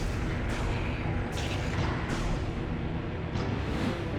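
Cannon fire in the video game Metroid Prime 3: Corruption, a dense, steady roar of booming blasts with a few sharper bright bursts layered on top, loud and continuous throughout.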